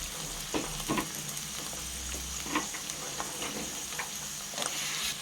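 Peas go into a pan of sizzling beans, capsicum, carrots and spring onions for a vegetable pulao, a soft steady fry with scattered scrapes and clicks of stirring, fairly faint and without voices.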